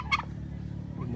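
A farm turkey gobbles once, a short bright burst near the start, over a steady low rumble of background noise with a faint second call near the end.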